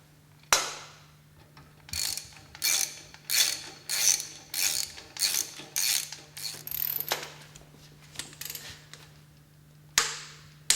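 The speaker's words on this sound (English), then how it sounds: "Tighten the screws in diagonally opposite pairs." A ratchet wrench tightens the screws on a submersible sewage pump, giving a steady run of rhythmic clicking bursts up close, about two per second with short pauses, with a low steady hum beneath and no talk.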